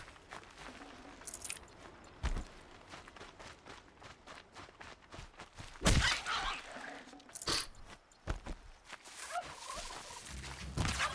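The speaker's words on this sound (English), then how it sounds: "Hunting turkeys." Turkeys gobbling in the video game Horizon Zero Dawn, brief bursts of gobbling and clucking scattered through busy game sounds, with short sharp impacts in between.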